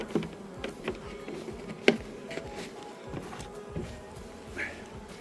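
Honey bees buzz faintly around a hive feeder filled with sugar water, their soft droning wings joined by a few light taps and rustles close by.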